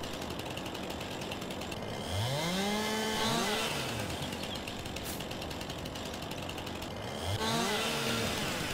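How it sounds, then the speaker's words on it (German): A chainsaw in the video game Farming Simulator 19 revs up twice in rising and falling whines, cutting through wood at close range over a constant mechanical drone. "ich hoffe, dass das Pferd sich nicht erschreckt von meinen Sägegeräuschen"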